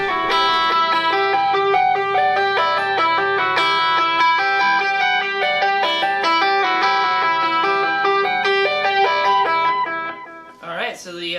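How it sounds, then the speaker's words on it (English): Electric guitar notes ring through an Echoplex delay, each picked tone trailing repeating echoes in a dense, shimmering wash that fades out near the end. "So the Echoplex sounds great."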